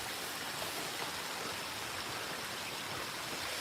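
Water flows steadily along a flooded hiking trail near a waterfall, forming a dense, even broadband rush with no breaks, close and moderately loud and free of voices.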